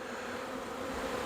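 A honeybee swarm hums in a dense, continuous buzz, close and steady for the whole brief moment, with no voices over it.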